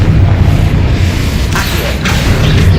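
A Confringo fire spell in Hogwarts Legacy, loud low booming rumble with mechanical creaks and two brighter crackling bursts toward the end, no voices.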